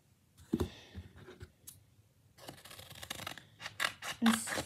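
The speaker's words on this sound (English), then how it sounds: "So then you need your scissors." Scissors cutting out a paper template for a giant Santa hat blind bag, with soft, irregular snips and clicks up close and quiet scraping of paper, scattered through a faint background and a brief voice.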